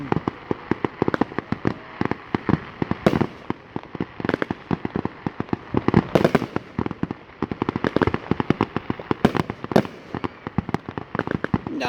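A fireworks show includes some misfires that go off at ground level. Dense, rapid crackling and popping bursts continue without pause, with a few louder booms standing out, heard from a moderate distance.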